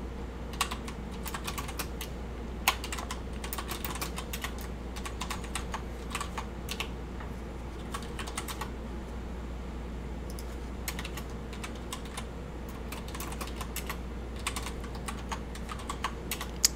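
Steady typing of router commands on a computer keyboard, quick irregular bursts of key clicks close up over a low constant hum, with no voices.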